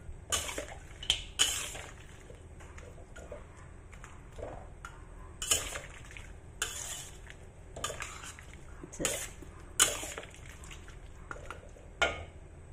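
Pieces of pork are stirred in a pan with bell pepper for sweet and sour pork, giving irregular bursts of utensil scraping and clinking against the pan over a quiet background.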